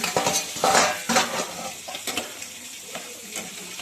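Small crabs sizzle in a pan while a metal utensil clinks and scrapes as they are stirred, loudest at the start and then settling into a softer fry.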